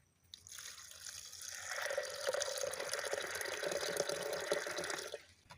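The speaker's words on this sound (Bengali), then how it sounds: "এবার সেদ্ধ হওয়ার মতো জল দিয়ে দেবো।" Water pours steadily into a pressure cooker of dal spiced with cloves and cardamom, a close, continuous splashing fill lasting several seconds before stopping abruptly.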